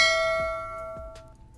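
A bell sound effect rings out twice, bright metallic dings with long ringing tones that decay over a second or so, clear and alone with no talk.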